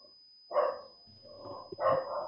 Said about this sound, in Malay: Kenapa ada bunyi anjing tu?